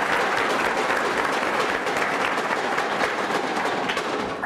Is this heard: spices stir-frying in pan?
no